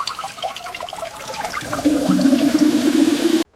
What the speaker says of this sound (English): I flush the toilet.